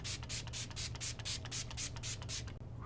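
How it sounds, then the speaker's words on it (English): Makeup Revolution Pro Fix fixing spray misted onto a powdered face in a rapid run of about ten short, close hissing bursts, steady and even, with no talking. "I'm gonna go in with the Makeup Revolution Pro Fix Fixing Spray to really just melt down all of this powder"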